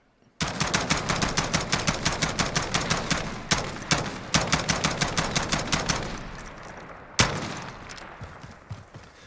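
An MK18 CQBR 5.56 rifle in Call of Duty Modern Warfare lets off a long, even string of close, loud shots in fast succession, with a short gap and a final sharp burst near the end.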